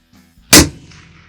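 A single sharp, loud 6.5 Creedmoor rifle shot at long range after a moment of quiet, followed by a brief fading echo.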